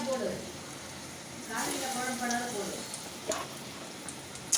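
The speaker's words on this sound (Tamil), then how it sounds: "இந்த உருண்டை எல்லாத்தையும் எண்ணெயில் போடுறேன்." Round dough balls dropped into hot oil, sizzling and crackling steadily with small pops and a swell of frying partway through; a voice murmurs faintly underneath.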